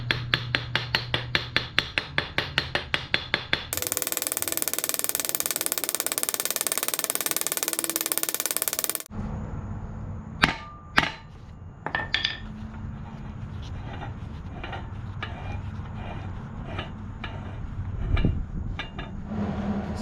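Metal sleeve being driven onto a John Deere Gyromor mower PTO shaft: sharp ringing metallic hammer strikes, a rapid run at first, then a few scattered loud blows among clanks and clinks, close and without talk.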